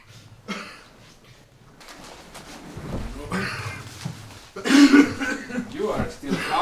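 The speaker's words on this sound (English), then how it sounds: "You are still coughing." A man coughing, several rough close-up coughs and throat clearing between spoken lines, the last burst the loudest, in a dramatic scene with other voices.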